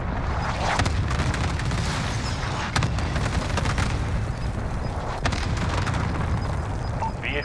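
Cluster airstrike explosions in a modern military shooter, a dense, rumbling wall of overlapping blasts and pops with a few sharper bursts, loud and sustained throughout.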